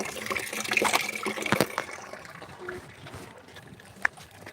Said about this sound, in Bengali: জলটা ভর্তি হোক